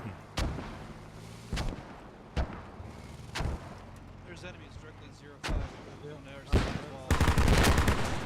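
Gunfire rings out during a vehicle drive-by in a competitive team video game match, with sharp single shots spaced irregularly and a denser volley at the end, under quiet talk.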